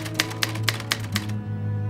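Typewriter keys struck in a steady rhythm, about four sharp clacks per second, close and crisp over a continuous low hum.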